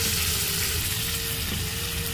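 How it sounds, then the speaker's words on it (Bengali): Brinjal (eggplant) slices fry in a pan with a steady, close sizzle that holds evenly throughout, a faint tonal hum running beneath it. "এই যে বেগুন ভাজা হচ্ছে"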